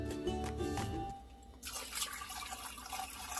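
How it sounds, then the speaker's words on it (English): Water runs and splashes into a pot holding chicken for noodle soup, a continuous pouring rush that shifts in tone partway through as the pot fills. "we're going to cover this with some water"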